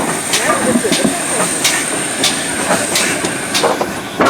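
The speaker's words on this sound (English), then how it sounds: "Great Western design pannier tank 1638. Ready to haul the last train out of Bodiam for this season." The Great Western design pannier tank steam locomotive 1638 stands ready to haul a train at Bodiam station on a heritage railway, with a loud, steady steam hiss and rumble broken by periodic metallic clanks.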